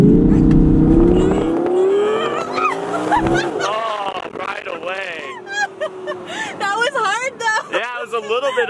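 Audi R8 accelerating hard in sport mode, a loud rising engine roar that climbs in pitch, with excited voices and shouting over it in the second half.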